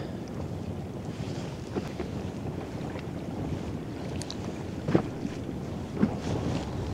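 Wind blowing across a small fishing boat drifting at sea off Tynemouth, a steady rushing buffet against the microphone, with the soft wash of water and a couple of brief knocks near the end.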